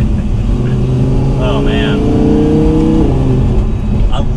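A 2020 Audi R8 V10 Performance Spider's engine roars loud and close as it revs, its exhaust note rising and falling in sweeping pulls while a man exclaims briefly over it.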